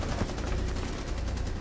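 The captain's gun fires in Rainbow Six Siege as a quick burst of rapid, evenly spaced shots, loud and close, lasting under two seconds.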